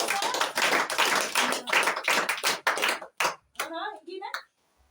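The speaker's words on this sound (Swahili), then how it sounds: "Very good, Makofi." A class of schoolchildren bursts into loud, rapid clapping that runs in uneven waves for about three seconds, then trails into scattered claps before a voice speaks briefly.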